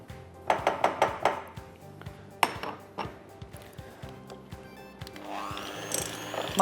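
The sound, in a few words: beating butter with sugar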